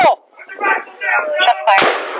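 Police gunfire aimed at a man holding a rifle during an armed confrontation in Albuquerque. A sharp, loud crack stands out near the end, and urgent shouted talk fills the rest.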